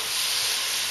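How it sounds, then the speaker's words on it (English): Root vegetables roasting on a Big Green Egg grill give off a steady, loud, broadband sizzle that holds evenly throughout without pause, with no voices over it. "it's starting to really sizzle good in there"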